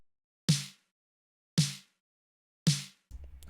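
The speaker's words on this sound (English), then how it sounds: "just a snare coming in" A bare, untreated Logic snare drum patch plays three crisp, evenly spaced hits on beats 2 and 4, each a sharp crack with a short decay. Other instruments start to come in right at the end.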